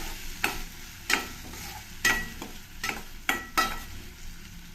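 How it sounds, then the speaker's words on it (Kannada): Onions frying in a pan for a soy curry, stirred with a spoon in about six regular scraping strokes over a low background sizzle, close by, with no talking. "ಈರುಳ್ಳಿ ಒಂದು ಸ್ವಲ್ಪ ಫ್ರೈ ಆಗೋವರೆಗೂ ಇದನ್ನು ಸ್ವಲ್ಪ ಕೈ ಆಡಿಸ್ಕೊಳ್ತೀನಿ"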